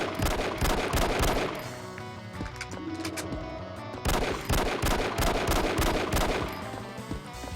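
Gunfire from a zombie-shooting first-person shooter on Xbox Live Indie Games, with dense rapid shots in steady volleys that run nearly the whole time, loud and close over a busy game mix.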